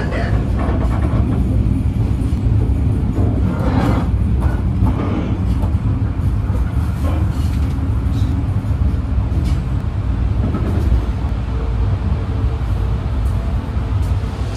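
Inside the KA Wijaya Kusuma economy train pulling into Banyuwangi Kota station, a loud steady rumble of wheels and carriage noise rolls on, with occasional clatter and faint voices underneath.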